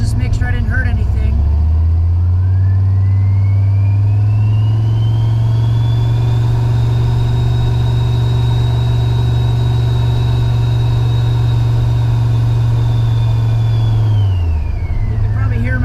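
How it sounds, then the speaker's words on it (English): Turbocharged drag car with a coupler blown off, its engine droning steadily up close while a high turbo whistle rises, holds for several seconds and then falls away as the engine revs settle. "You can probably hear my turbo is whistling extremely loud right now because I blew a coupler off during that pass."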